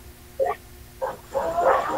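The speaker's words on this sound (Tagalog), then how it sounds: "Mga aso ko sa kalsada yun." Dogs on the street bark in a few short, sharp yelps, then a longer burst of overlapping barks, heard from a little distance.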